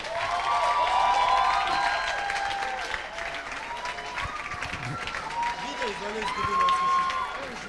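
A large conference audience at Upgrade 2018 applauds and cheers as a speaker takes the stage. The clapping stays sustained and loud, with whoops and crowd voices layered over it throughout.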